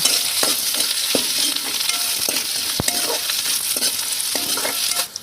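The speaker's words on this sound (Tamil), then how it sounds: "கூடவே பெரிய வெங்காயத்தை பீஸ் பீஸாக கட் பண்ணி உள்ளே போட்டுக்கலாங்க அதையும் சேர்த்து நல்லா வதக்கி விட்டுடலாங்க" Chopped onion, green chilli and curry leaves sauté in a pan for a dhaba-style chicken fry. A constant close sizzle is broken by regular scraping stirs and a sharp tap of the spoon against the pan.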